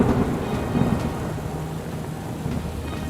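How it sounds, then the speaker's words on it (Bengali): Cartoon-style thunderstorm effect with heavy rain hissing steadily and low thunder rumbling beneath, fairly loud and continuous, no speech. "ধর ধর ধর সিধু, আমার জালটা ঝড়ে উড়িয়ে নিয়ে গেল রে"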